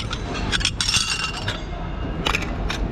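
Small ceramic saucers and bowls clink and tap against each other as they are handled, in quick scattered bursts over soft background noise.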